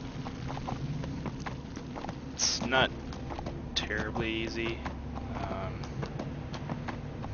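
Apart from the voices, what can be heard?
horse hooves while riding in video game Neverwinter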